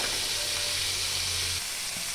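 Fish frying in hot oil, a steady loud sizzling hiss with a faint low hum, alone with no talking.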